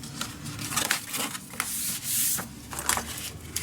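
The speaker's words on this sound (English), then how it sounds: "you're gonna push that down where your tape is off, and then just peel off the rest" Patterned craft paper is pressed and rubbed down onto adhesive tape, and the tape backing is then peeled away, making close, dry rubbing and crinkly scraping in short bursts.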